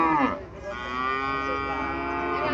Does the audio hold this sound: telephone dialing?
no